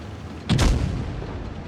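Main gun of a T110E3 tank fires in World of Tanks Blitz, a single loud booming shot with a sharp crack and a low rumbling tail that fades over a second, alone with no talk.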